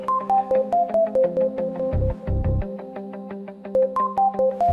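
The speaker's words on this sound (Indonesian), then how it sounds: "Ada telepon nih." A phone rings with a looping melodic ringtone announcing an incoming call, its repeated tonal phrases steady and fairly loud, with a few low thumps in the middle of the ring.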